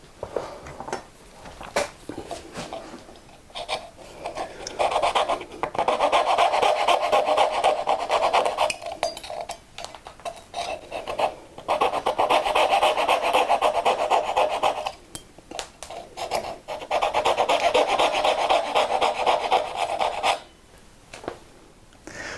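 Waste wood being removed between angled dovetails with a hand tool, heard as long stretches of close, steady rasping and scraping in repeated strokes, broken by short pauses.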